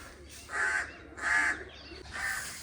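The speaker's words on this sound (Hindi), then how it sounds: "कौवा बोल रहा है जी बनेरे पे।" A crow caws three times from a rooftop parapet at a steady pace, each call harsh and drawn out, moderately near against a quiet background.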